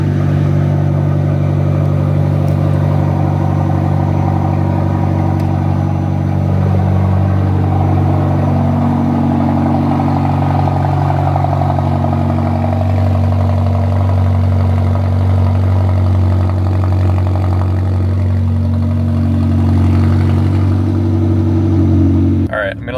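McLaren supercar cold start: a loud, continuous engine drone whose pitch swells mid-way, then settles into a steady, rumbling idle.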